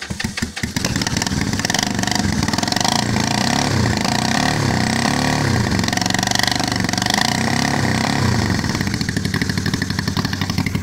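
A Honda CB450 restomod motorcycle on a cold morning, running through shorty mufflers: a loud, steady, throaty engine note, close up and continuous, with slight rev changes and no voices.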